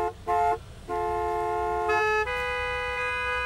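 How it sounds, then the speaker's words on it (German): Several car horns honk in the Gas Station Simulator video game, with short overlapping toots followed by long sustained blasts at different pitches, loud and close, without talk. "hört doch mal auf zu hupen"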